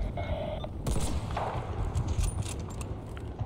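Gunfire in a Battlefield: Bad Company 2 match: a dense, steady stream of shots and impacts with a metallic rattle, continuous and fairly loud, with a brief sharper burst partway through and no talking.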